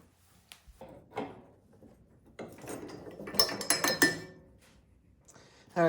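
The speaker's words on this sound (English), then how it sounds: "There's just two little 13mm bolts that we gotta loosen up here." Metallic ratcheting and clinking as a wrench loosens two small 13mm bolts on the belt guard of a Toro Power Shift 624 snowblower, with quick bursts of clicks building toward the end, fairly quiet and close up, no talking.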